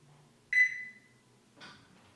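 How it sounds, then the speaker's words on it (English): A Thermoworks Signals BBQ thermometer sounds its turkey breast alarm, a single bright electronic beep that rings out and fades, followed a second later by a softer, noisier sound nearby in a quiet room. "Turkey breast alarm."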